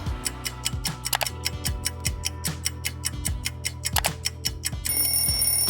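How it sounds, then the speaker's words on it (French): A kitchen timer ticks in a steady, rapid rhythm up close, with a brief ring-like tone near the end. "je vais rajouter le minuteur"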